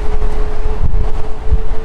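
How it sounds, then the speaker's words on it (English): Wind buffets the microphone while riding an EX30 electric wheel outdoors, a loud continuous rushing roar with low thumping gusts, no talk. "Wow, there's wind."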